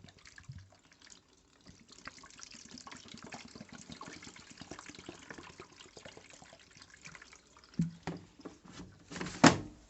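Liquid detergent glugs and splashes steadily into a washing machine for several seconds, ending in a few louder sloshes and a sharp clunk.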